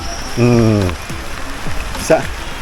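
A heavy rain downpour over a vegetable garden makes a steady hiss that runs through the whole moment, while someone speaks in short bursts over it.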